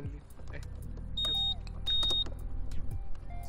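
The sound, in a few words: Honda PCX 150 scooter engine starting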